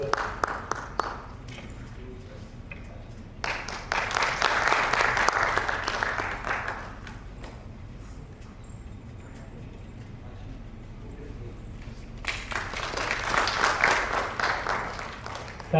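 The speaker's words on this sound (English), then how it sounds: "Please give a round of applause to our second chair." Audience at an international power and control systems conference applauds a session chair in two bursts of clapping separated by a quieter stretch with talk, the second round swelling near the end.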